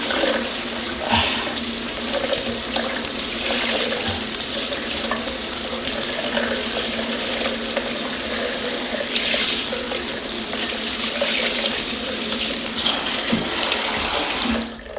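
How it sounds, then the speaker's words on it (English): A tap runs continuously, a loud, steady close-up rush of flowing water that holds for the whole stretch and drops away only at the very end. "now we make the water come out"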